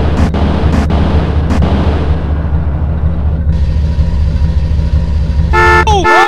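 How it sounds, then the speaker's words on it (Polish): A car horn toots in several short blasts, then a longer honk near the end, over a constant low engine hum of a running vehicle. "Co trąbisz?"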